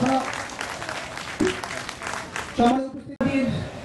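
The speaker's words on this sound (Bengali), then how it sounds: "আসুন আমরা করতালি দিয়ে এই আনন্দ" An audience claps at a Baishakhi fair event in Chandpur, a steady wash of applause running the whole time with a voice speaking over it and a brief dip near the end.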